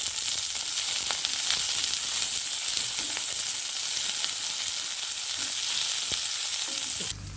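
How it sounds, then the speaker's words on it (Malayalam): Onions and a few garlic cloves sautéing in a pan, an even, dense sizzle with faint scattered crackles, steady and close throughout with no talking. "ഇനി ഇതിലേക്ക് നമ്മൾ ഉള്ളി ഒരു മൂന്നാലല്ലി വെളുത്തുള്ളി അതിട്ടൊന്ന് വാട്ടി എടുക്കട്ടെ"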